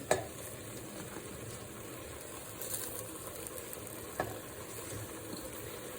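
Cleaned, chopped spinach goes into a pot of cooking broccoli for a Tamil vellai curry, giving a soft, steady sizzle and simmer with a few brief rustling clinks as the greens land.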